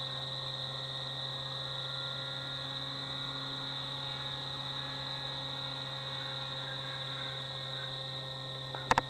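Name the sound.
FX79 Buffalo RC plane electric motor at about 70% throttle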